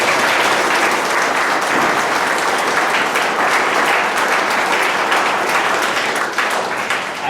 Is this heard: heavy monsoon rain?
no